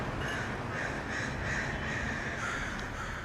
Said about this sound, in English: downtown Portland is a surprisingly homey habitat for crows